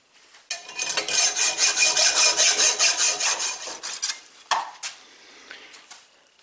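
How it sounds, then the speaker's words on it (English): A hacksaw finishes a cut through metal stock for a homemade rocket motor in about a dozen quick, loud back-and-forth strokes, then stops, followed by a few clanks of handling. "I'll just finish that off with a hacksaw."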